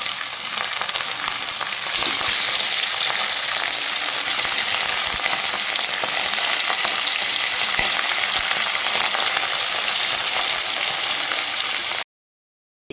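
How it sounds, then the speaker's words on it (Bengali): Pieces of catla fish fry in hot oil in a wok, a loud, steady sizzle with occasional crackles and pops that holds until it cuts off abruptly near the end. "তেল দিয়েছি কড়াইতে গরম হয়ে গেছে দিয়ে দিব একে একে মাছ"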